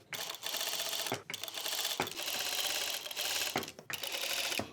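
A sewing machine stitches single-fold bias tape along its crease line, with the presser foot following the fold. Close, steady mechanical whirring runs in bursts, broken by several short pauses, with no talking.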